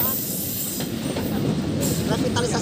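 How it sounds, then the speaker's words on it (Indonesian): A train rolls past at Manggarai station in Jakarta amid construction work, with a loud continuous rumble, wheel clatter and faint squeal filling the whole stretch up close. "Ada kereta api lewat."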